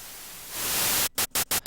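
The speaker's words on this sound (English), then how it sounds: "It's just a white noise, doesn't do much except be noisy." Bright white noise from an Xfer Serum synthesizer hisses steadily, swelling louder midway, then chops abruptly on and off in several quick gated bursts.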